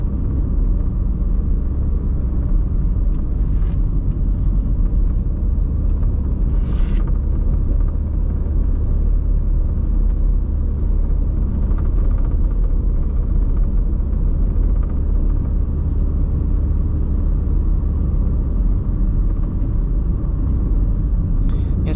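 A car engine labouring uphill on a mountain road, heard as a loud, constant low rumble of engine and road noise with no letup throughout.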